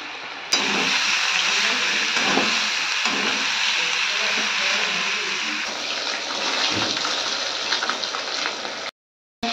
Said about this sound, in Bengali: এখানে ভোলা মাছটা ভাজছি